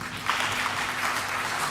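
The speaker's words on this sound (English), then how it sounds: "So let's clap for all of us." Audience applause at an International Missing Children's Day event, a steady wash of many hands clapping throughout at moderate volume.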